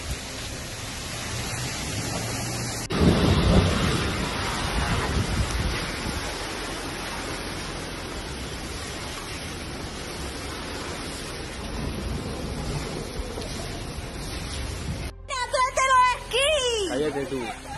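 Hailstorm in Cala Ratjada, Spain: a sudden loud, dense roar of pelting ice that drowns everything for about twelve seconds, then cuts to voices talking over the storm.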